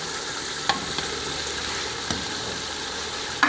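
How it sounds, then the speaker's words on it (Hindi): Shredded chicken frying in oil and masala, a steady close sizzle with a few sharp clicks of stirring. "माशाल्लाह 5-6 मिनट हो गए चिकन की भुनाई करदे हैं"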